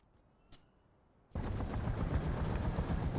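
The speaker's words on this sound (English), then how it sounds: "that dead helicopter that was kind of spinning out of control earlier, you can still hear him" A crashed helicopter in a military video game spins out of control, heard as a loud, steady rotor and engine roar that cuts in suddenly after a quiet stretch with one faint click.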